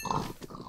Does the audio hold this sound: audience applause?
no